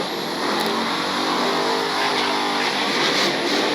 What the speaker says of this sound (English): Let's take a listen at some of those engines revving